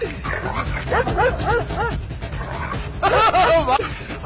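A dog barks and yips in short excited bursts in the middle of the scene, with a louder run of barks near the end, mixed with commotion and a person's pleading voice.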